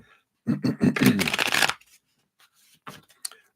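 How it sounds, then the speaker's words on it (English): A deck of cards is shuffled in a quick riffle, a loud rapid fluttering burst lasting over a second, followed by a few softer taps and rustles as the cards are squared. "Let's give it one more shuffle here."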